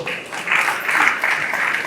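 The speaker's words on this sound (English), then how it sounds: "So I want you to give yourself a round of applause." A round of applause from an audience gathered for a speech, a short burst of steady clapping filling the room for about two seconds.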